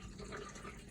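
Water gushes steadily into a toilet bowl at a home RV black-tank dump setup, a constant rushing fill with no breaks and no voices.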